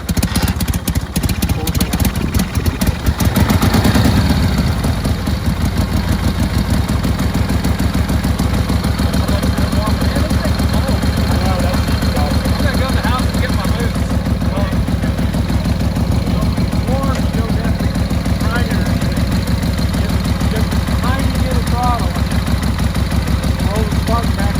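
An antique motorcycle's engine runs at a steady, loud, close idle at a motorcycle museum fest, a continuous rhythmic chug that lasts the whole stretch.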